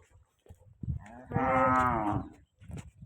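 A cow moos once, long and loud, in a Gujarati cattle-keeping setting, with brief shuffling and low background noise before and after the call.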